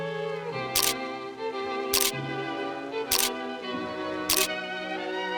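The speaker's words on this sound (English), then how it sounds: "she pressed the shutter." Four sharp mechanical clicks of a single-lens reflex camera shutter, spaced about a second apart, each a crisp broadband snap over a steady sustained musical tone.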